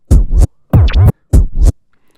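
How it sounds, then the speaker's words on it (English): Three quick bursts of DJ baby scratching on a turntable, each a back-and-forth sweep of a record, loud and close with short gaps between. "So the first one is just literally all baby scratches"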